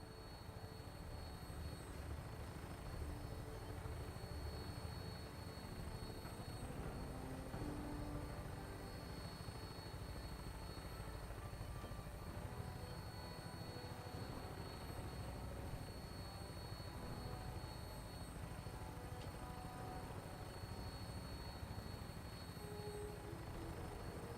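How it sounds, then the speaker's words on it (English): Old aircraft in the video game Fallout 4, a steady engine drone with a rumbling low end and faint high whine that holds at an even level throughout, with no talk. "Flying around in a 200-year-old aircraft?"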